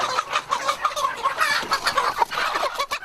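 Many chickens cluck and squawk loudly and close by as they are caught and tied up in a rural Cambodian village, with overlapping agitated calls rising and falling throughout and no speech.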